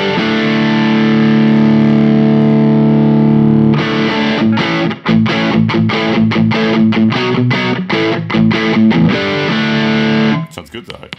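Electric guitar through a Caline G-Series pedal in boost mode, a sustained distorted chord followed by rhythmic choppy strummed chords, loud and close, cut off at the end.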